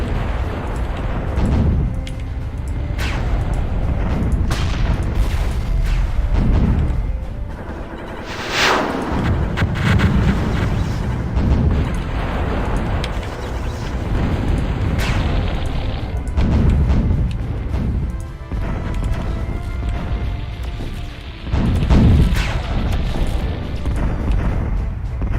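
In the strategy game Zero-K, artillery ships fire salvo after salvo, with deep booming blasts and explosions that rumble one after another through a dense, loud battle soundscape.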